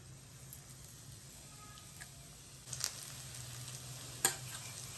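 Methi gota, battered fenugreek fritters, frying in hot oil in a pan: a quiet, even sizzle with a few soft pops and spatters.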